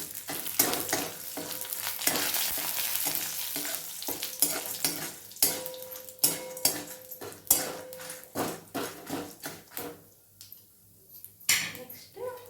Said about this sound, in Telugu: ఇప్పుడు ఎండుమిరపకాయలు సిమ్లో పెట్టుకోండి, మాడకుండా ఉంటుంది.